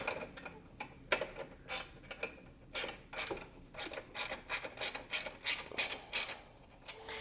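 A bolt threading into the frame of a 2001 Polaris Scrambler 500 2x4 four-wheeler, a steady series of close metallic ratcheting clicks with a regular rhythm.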